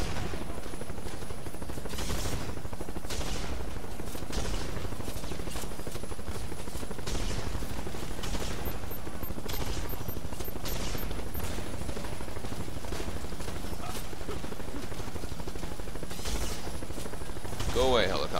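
Helicopter rotor thump with bursts of gunfire in The Expendables 2 video game, a loud continuous beat running throughout, repeated shots layered over it, with a voice talking over the action.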